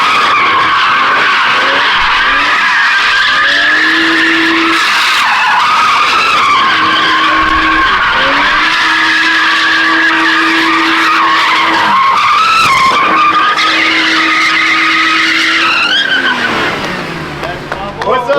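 A car drifting through donuts at a drift event, its tires squealing loudly in long, wavering screeches over a revving engine, with voices talking over the noise.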